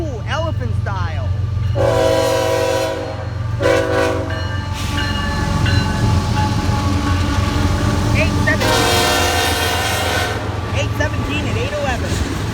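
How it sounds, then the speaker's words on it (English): A passenger train, number 101, passes on a rainy day with two locomotives running elephant style, sounding repeated loud horn blasts over steady rumbling wheels and rain; the horn sounds in several bursts across the passage while a voice talks briefly. "We've got train 101 coming."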